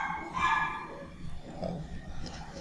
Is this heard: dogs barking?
yes